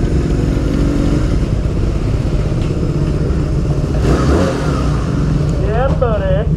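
Motorcycles, one a Honda Rebel, idle and rumble nearby as they are ridden in and parked after a long hot ride, a steady loud engine drone with a brief rev near the end, under people talking.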